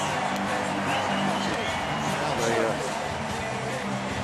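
A big baseball crowd roars and screams in a steady, dense wash after a walk-off base hit, with a commentator's voice running over it throughout.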